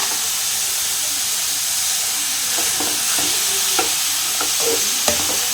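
Grated carrot fries in a pan with a continuous close hiss and sizzle, broken now and then by short scraping strokes of stirring toward the end; nobody speaks.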